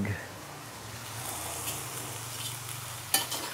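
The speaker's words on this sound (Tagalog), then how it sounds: "Magluluto din ako ng egg." An egg fries in a pan for instant pancit canton, giving a soft continuous sizzle close by, with a sharp clink of a utensil near the end.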